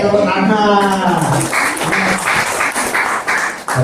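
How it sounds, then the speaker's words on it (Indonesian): An audience claps in applause at an agent business presentation in Bukittinggi, a short burst of fairly loud, dense clapping that starts after a voice and carries on for several seconds. "Oke, tepuk tangan."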